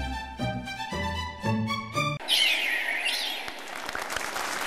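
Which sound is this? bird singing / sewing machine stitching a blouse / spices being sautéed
bird singing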